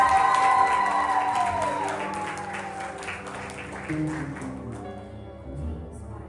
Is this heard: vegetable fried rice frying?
no